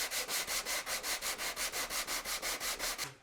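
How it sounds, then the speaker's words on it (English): An orbital sander or sanding block works back and forth over a faux-wood ceiling beam in a steady, rhythmic rasp of about fourteen even strokes, close and fairly loud, with no voices. "This can be done with an orbital sander or a sanding block."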